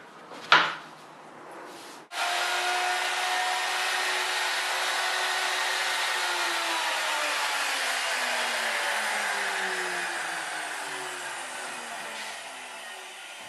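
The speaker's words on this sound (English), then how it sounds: "the routing fixtures are put on the back side of the countertop to trim the base and mounting area for the sink" A router trims the base and sink mounting area on the back side of a countertop: a brief clatter, then a loud, steady machining whine with slowly falling tones that eases off toward the end, with no voices.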